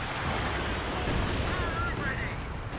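Artillery fire from a Company of Heroes 2 battle, a dense continuous rumble of distant shelling and gunfire that never lets up, with a faint whistling sweep partway through.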